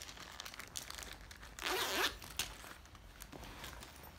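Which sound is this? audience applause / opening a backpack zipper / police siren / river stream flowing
opening a backpack zipper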